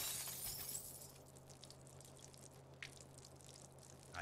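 Containers of toxic chemicals shattering on a floor in South Park: The Fractured But Whole, a sharp glassy crash at the start followed by faint tinkling debris and quiet scattered clinks.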